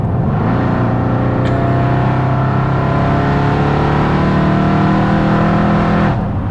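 A supercharged Mercedes C63 AMG with a 6.2 litre V8, long tube headers and over 700 bhp drones loudly and close, its exhaust note swelling steadily as the revs climb for several seconds.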